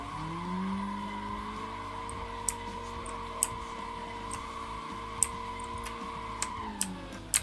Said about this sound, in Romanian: Ia, să auziți și voi cum face mașina asta.